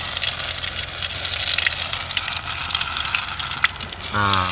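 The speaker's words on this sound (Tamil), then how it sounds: "அந்த சவுண்டை பாருங்க, எண்ணெய் கொதிக்க சவுண்டை." Oil sizzles and bubbles loudly and continuously as coconut pakoda fries, with a dense crackling hiss throughout.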